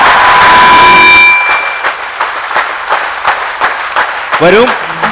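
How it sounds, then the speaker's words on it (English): An audience at an event in Bengaluru bursts into a big round of applause, loud and dense at first, then thinning into scattered claps with a voice or two breaking through near the end. "Big clap."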